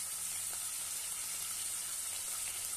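Green peas and shredded cabbage sauté in a pan, a soft steady sizzle of frying vegetables with faint stirring, quiet and continuous with no talk.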